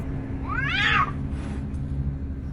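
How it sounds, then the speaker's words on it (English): A single cat lets out a rising and falling yowl lasting about half a second, nasal and strained like a fighting alley cat, heard up close over a low steady background hum. "The same sound I hear when he's fighting cats in the alley."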